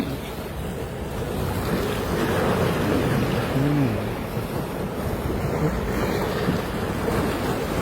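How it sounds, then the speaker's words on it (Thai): Steady roar of surf and gusting wind buffeting the microphone on the Rayong coast of Thailand runs throughout, loud and continuous, with a brief faint tonal sound midway. "ทะเลระยองครับ"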